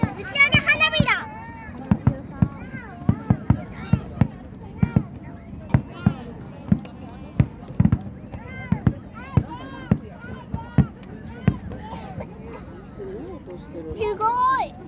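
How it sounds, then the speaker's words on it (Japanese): Fireworks launched at the Sakata fireworks show in Japan, a steady run of sharp, loud bangs and cracks spread across the clip, with voices of onlookers talking and reacting throughout. "打ち上げ花火だ。"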